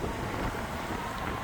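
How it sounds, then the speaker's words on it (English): Wind buffets a microphone outdoors with a steady, rumbling roar for the whole moment. "it's a little windy out here"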